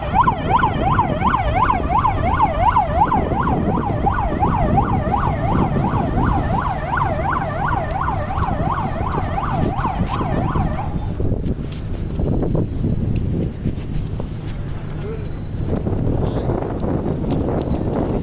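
A fire service vehicle's wailing siren rises and falls steadily for about eleven seconds, loud over constant background rumble and street noise on Maafushi island in the Maldives, then cuts out, leaving traffic and ambient bustle.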